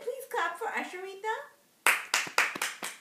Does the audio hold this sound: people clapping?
yes